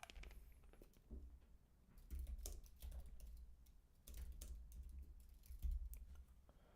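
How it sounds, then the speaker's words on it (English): Someone types on a computer keyboard in short bursts of quiet clicking keystrokes, close and faint, with brief pauses between runs. "we'll try typing a query."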